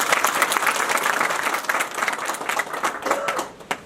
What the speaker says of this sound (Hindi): सभी से निवेदन में कृपया करके एक बार जोरदार ताली इस बात की।